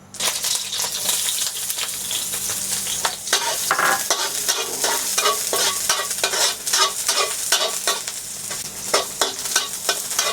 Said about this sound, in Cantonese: 麻油擠咁樣香啲，煎個雞蛋。